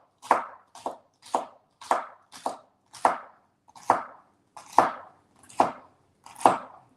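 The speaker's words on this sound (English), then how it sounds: "So now we're just going to cut up some of this celery." Celery being chopped with a knife on a cutting board for a corn chowder, about ten crisp, evenly spaced cuts, some in quick pairs, close and clear with no talking.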